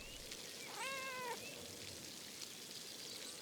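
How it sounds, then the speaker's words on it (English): A cat in the video game Pentiment gives a single short, clear meow over quiet ambient background noise. "Ah, I pet the kitty cat."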